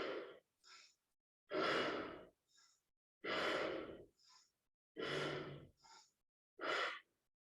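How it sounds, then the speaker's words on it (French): Kapalabhati yoga breathing done at a moderate pace, with four strong, forceful exhalations through the nose, each followed by a short, softer inhale, in a steady rhythm, close and without talk. "On travaille avec une respiration type Kapalabhati, pas très rapide. L'expiration est puissante."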